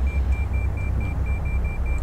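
A steady, evenly spaced electronic beep repeats about every fifth of a second over a constant low engine rumble inside a simulated DC-3 cockpit in X-Plane 11.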